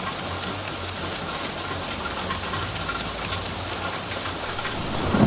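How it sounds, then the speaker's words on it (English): Heavy rain pours steadily in a dense, continuous hiss with faint low rumbles beneath, loud and unbroken throughout. "Then it started to rain. Not just any rain, but a powerful, endless rain."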